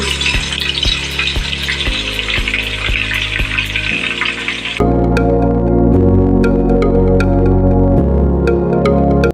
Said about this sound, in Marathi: तेल आपलं तापलेलं आहे, कांदा फ्राय करून घ्यायचा आहे